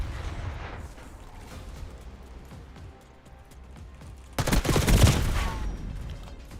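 Sudden dense gunfire bursts out in a video game shooter after a stretch of quieter background noise, loud, booming and rapid for about two seconds near the end.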